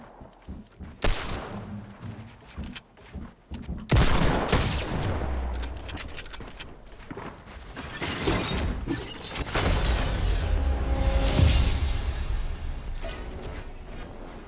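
Desert Eagle gunfire in Fortnite crackles amid a chaotic firefight, with sharp single shots and bursts, mechanical clacks and heavier rumbling blasts building toward the end.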